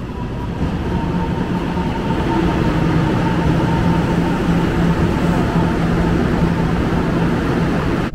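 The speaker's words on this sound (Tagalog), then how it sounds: "local train ride" A local train running on elevated rails in Taiwan rumbles steadily from inside the carriage, with a continuous low roar, faint wheel hum and a constant tone throughout.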